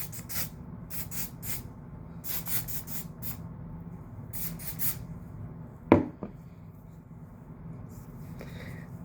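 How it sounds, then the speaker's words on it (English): Hairspray hisses lightly onto curled hair in several short, quiet bursts over a low background hum, followed by a single sharp tap. "I'm gonna just put a little bit of hairspray lightly in it."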